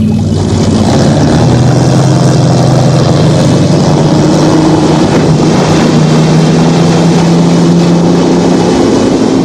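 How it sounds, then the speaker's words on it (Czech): A motorboat engine runs loud and close, a constant droning rumble with rushing wind-like noise that holds steady throughout. "Tamhle je člun."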